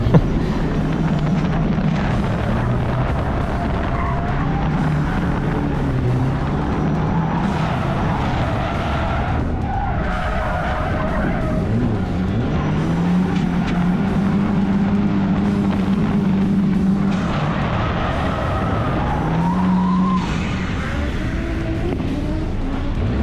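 A Volvo 245 engine drones steadily with shifting revs and occasional tire noise, fairly loud and continuous throughout, no voices.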